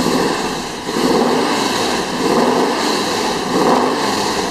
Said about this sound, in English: Just turn this thing over real quick and show you what it sounds like. It sounds great with the Magnaflow exhaust on it.